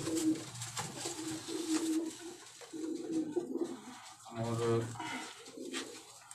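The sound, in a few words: Sialkoti cross pigeons cooing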